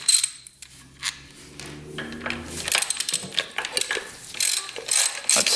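A ratchet clicks and tools clink as bolts come off the oil pump cover of a rare motorcycle, in rapid close metallic ratcheting with scattered clanks.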